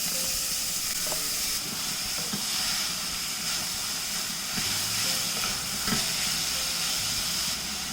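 Chopped beetroot fries in hot oil with curry leaves and cumin, a loud, constant sizzle and hiss close by, with occasional stirring scrapes and knocks.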